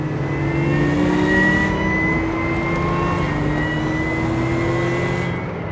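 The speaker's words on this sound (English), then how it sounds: "I love the whine from the supercharger." A supercharged 1990 Mazda MX-5 engine revs loudly and steadily with a sustained, high-pitched supercharger whine rising and falling above the throaty drone, close by.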